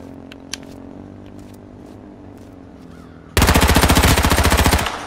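Rapid automatic gunfire in the video game H1Z1 bursts out loudly after a few seconds of quiet game ambience, a dense string of close shots that tails off at the end.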